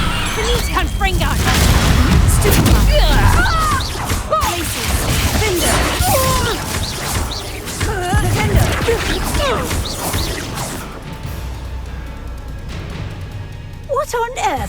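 Confringo blasting curses in the Hogwarts Legacy game burst in repeated loud booms and crashes during a chaotic duel, with shouted voices and whooshes between impacts that thin out toward the end.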